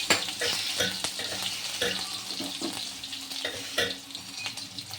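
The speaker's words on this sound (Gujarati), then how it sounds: "પેસ્ટને સરખી રીતે આપણે સાંતળી લેશું, તેમ કચાશ દૂર થઈ જશે." Ginger, chili and garlic paste sautéing in hot oil with cumin for aloo puri, a steady close sizzle with scraping stirs of a spoon against the pan.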